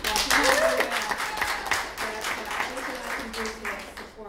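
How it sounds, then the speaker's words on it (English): Applause from a studio audience at a talk show, a dense burst of clapping that starts loud and gradually thins out over a few seconds, with no talking over it. "I want to give her a big round of applause"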